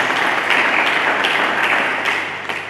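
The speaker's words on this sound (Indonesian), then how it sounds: "Mari kita berikan tepuk tangan bagi Yesus." Steady, dense applause from a church congregation fills the whole stretch, a continuous wash of many hands clapping at once without a break.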